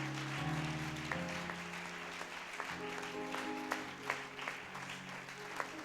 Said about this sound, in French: Clap for your God.